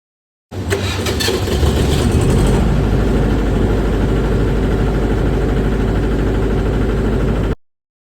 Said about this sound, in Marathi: जनरेटर चालू करून दाखवतो तुम्हाला मी आता.